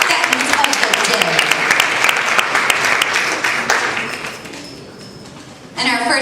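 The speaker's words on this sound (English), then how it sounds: "And another round of applause, Dish du Jour, second of the day." An audience at a middle school awards ceremony applauds the winners, loud steady clapping that tapers off toward the end before a voice starts speaking over a microphone.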